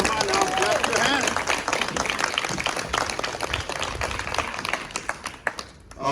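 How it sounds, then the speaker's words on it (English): An audience at a foundation presentation in Buff Bay, Portland claps hands steadily in a loud, sustained round of applause, with talk mixed in before it tapers off near the end. "Come on now, clap your hands."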